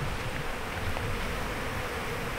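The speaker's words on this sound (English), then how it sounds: "Probably about 50 bees in that one." A swarm of bees buzzes around a beach campsite in Western Australia, a steady, close, droning hum that fills the whole stretch without pause.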